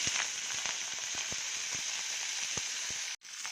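A handful of black nightshade greens from a terrace pot sizzles in a little oil in a pan, giving a steady hiss broken by frequent sharp pops and crackles, close and fairly quiet, with a brief drop near the end.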